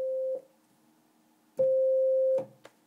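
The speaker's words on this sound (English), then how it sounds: "So there's sine wave." Pure sine-wave patch on a Yamaha DX9 synthesizer: two clean steady tones of a single pitch, each sustained and then cut off, with soft key clicks between them.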